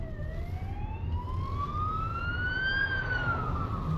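A police car siren wails in a rising and falling sweep, fairly loud and steady over a low rumble of traffic, heard outdoors near the Zealandia sanctuary in New Zealand.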